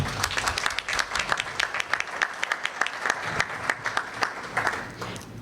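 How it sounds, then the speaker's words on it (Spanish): Audience applause at a food week event for rural and fishing producers, steady dense clapping from a crowd lasting throughout, fairly loud and fading slightly at the end. "Un aplauso a ellos,"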